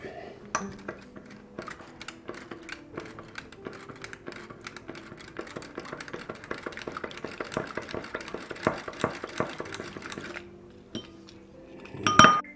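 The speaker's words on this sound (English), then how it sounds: "put an egg with a little milk, and I'm going to whisk it up" An egg and a little milk whisked in a small bowl make a fast, steady run of light clinks and ticks of utensil against the bowl, ending in a louder clatter.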